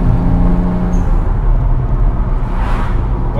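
Twin-turbo Japanese sports car engine accelerating, a loud, steady close-up rumbling drone with a slight rise in pitch, no voices over it.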